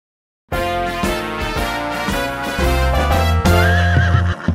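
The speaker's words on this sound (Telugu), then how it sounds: "నేనొక మేలు జాతి గుర్రం" A thoroughbred horse neighing in a long, loud, wavering whinny heard close up, with hooves clip-clopping beneath it, in a Telugu animated nursery rhyme.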